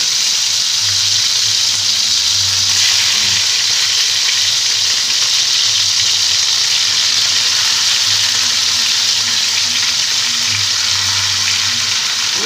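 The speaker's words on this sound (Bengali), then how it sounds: "আমি ফ্রাই করে নেব তার জন্য আমি এই যে সর্ষের তেল গরম করেছি প্যানের মধ্যে" Bhetki fish frying in hot mustard oil in a pan, a steady loud sizzle and hiss lasting throughout with occasional faint clinks, no talking.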